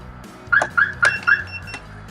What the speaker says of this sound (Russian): при малейшем открытии срабатывает сигнализация